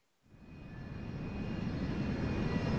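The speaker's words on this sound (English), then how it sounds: "Another plane." A propeller airplane engine drones overhead in the video game Resident Evil 6, rising from silence into a loud, steady roar that keeps building, with no voices.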